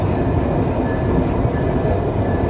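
The Barendra Express, running with a white Chinese-built rake, rumbles through Saidpur railway station in Bangladesh in the early morning, a loud steady roar of rolling stock with faint rail clatter.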